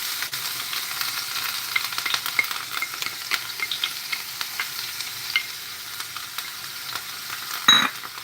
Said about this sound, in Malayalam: അപ്പോൾ അത് ചൂടായിട്ടുണ്ട് അപ്പോൾ നമ്മൾ ഈ ചതച്ച് വെച്ച് ഉള്ളി വെളുത്തുള്ളി വേപ്പില നമുക്ക്